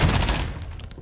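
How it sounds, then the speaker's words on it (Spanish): Gunfire in Call of Duty: Warzone: a brief, loud, close burst of rapid shots that fades quickly. "¡Nos están disparando!"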